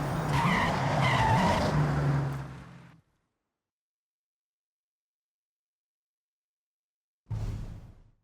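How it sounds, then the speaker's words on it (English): A car skids to a full stop in the Forza Horizon 6 racing game on a Japan day trip, a loud tire screech lasting about three seconds. Silence follows, then a brief second burst of tire noise. "Bring your car to a full stop."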